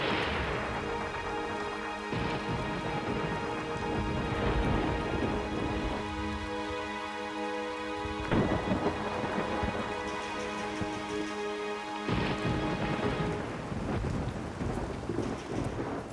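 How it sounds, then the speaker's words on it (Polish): Heavy rain pours steadily while thunder rolls and cracks several times, with rumbling peals rising and fading over the constant downpour. "Tyle deszczu?"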